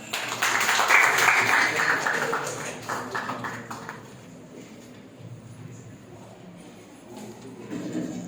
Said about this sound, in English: Please join us in welcoming Dr. Arunachalam to the stage with a warm round of applause.